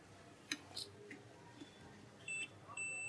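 A multimeter on its continuity beep range tests a 4 ohm, 3 watt computer speaker, giving a short beep and then a second beep that holds to the end, over faint room hiss.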